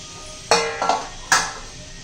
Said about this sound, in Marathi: त्यासाठी आपण तवा गरम करण्यासाठी ठेवूया लोखंडी तवा घेतलेला आहे